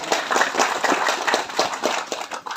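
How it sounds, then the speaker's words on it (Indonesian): An audience at an NU district conference in Rimbo Ulu claps in applause, dense and fairly close, a lively crackle of many hands that runs throughout without speech. "Tepuk tangan."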